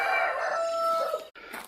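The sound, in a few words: chickens crowing and clucking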